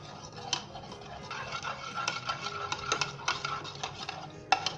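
Chaat masala being mixed into yogurt in a bowl, a run of quick clinks and scrapes of a spoon against the bowl, close and fairly busy, with no voices.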